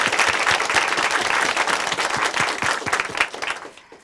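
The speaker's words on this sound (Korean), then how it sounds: "우리 정은혜 자매님께 박수 한번 보내드리겠습니다." A church audience at Chuncheon Hanmaum Church in a televised Korean Christian testimony program claps for a testimony speaker, brisk, steady applause with distinct claps that gradually thins and fades out near the end.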